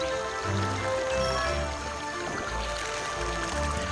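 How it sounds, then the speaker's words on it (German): Water effects in the video game Trine 2: a continuous rushing, splashing stream of water with droplet-like patter, steady and moderately loud, with faint tones and low rumbles from the game beneath. "Oh, guck mal, die Wassereffekte."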